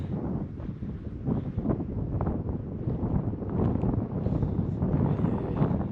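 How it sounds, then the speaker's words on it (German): Strong mountain wind near the Zugspitze summit roars and buffets against the microphone, a dense, continuous blustery rush with gusty surges throughout. "Manchmal pfeift der Wind hier echt extrem."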